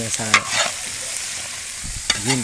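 Liver, meat and bitter gourd are stirred in a hot pan for Bicolano igado, with scraping strokes over a steady sizzle and brief squeaky tonal sounds at the start and end.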